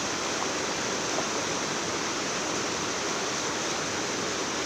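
A river near Robbers Cave in Dehradun rushes with a dense, steady roar of flowing water, close and unbroken, with no voices.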